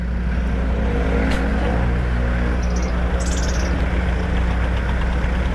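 A motorcycle engine fitted with a swapped exhaust runs steadily up close, a continuous low rumble with a faint ticking texture and no talk.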